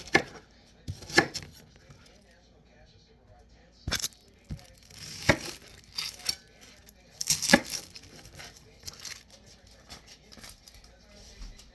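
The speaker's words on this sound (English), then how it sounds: "So I'm going to chop these up and just throw them in there." Vegetables being chopped into large chunks on a cutting board for homemade pasta sauce, a series of uneven knife thuds and crunches in bursts with pauses, close by and moderately loud over a quiet kitchen background.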